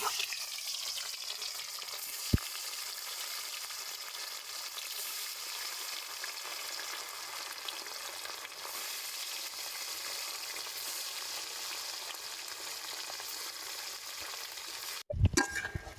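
Eggs frying in hot oil in a pan, a steady continuous sizzle throughout with one sharp clack near the start and a brief clatter at the end.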